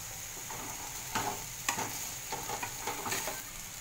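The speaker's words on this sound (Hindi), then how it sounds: "एक दो मिनट के लिए हम प्याज को पका लेंगे और इसे एक बार चला लेंगे इडली को।" Idli pieces being stirred with onions frying in a pan, a faint steady sizzle broken by a handful of scraping spatula strokes at irregular intervals, with no talking.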